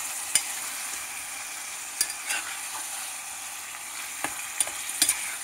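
Garlic paste frying in a pan for mutton keema, a quiet steady sizzle broken by a few sharp spatula clicks and stirring scrapes.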